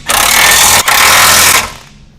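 Front bumper bolts on a 2017-2022 Ford F-250/F-350 are driven with a 3/4 inch socket, making a loud, steady mechanical whir for about a second and a half with one brief break, then tapering off. No talk.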